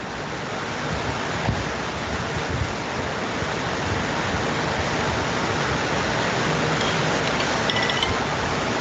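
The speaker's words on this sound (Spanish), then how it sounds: "también por acá está lloviendo fuerte" Heavy rain pours down steadily throughout, a dense, loud, continuous hiss with no breaks and no voices.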